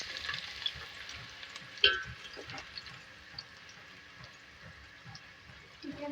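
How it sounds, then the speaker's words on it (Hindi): Three medium onions frying in a pan for beef palak gosht, a soft steady sizzle with light stirring scrapes and a sharper clink partway through, alone without talk. "इसको थोड़ा देर फ्राई करेंगे"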